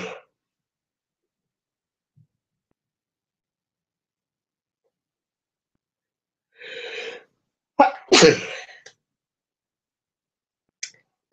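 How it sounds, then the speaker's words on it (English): Repeated sneezes from an allergic woman: a couple of close, sharp bursts in quick succession after a long silence, then another brief one at the end. "once I start sneezing, I don't stop. So apologies for sneezing so much."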